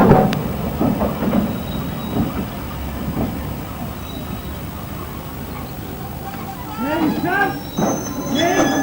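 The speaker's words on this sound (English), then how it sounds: "they brought the 92-year-old locomotive and its 6 coaches from Sheffield Park into Kingscote" The 92-year-old steam locomotive 592 draws six coaches into Kingscote station on the Bluebell Railway in 1994, with a low rumbling approach and squealing wheels rising toward the end while someone narrates over it.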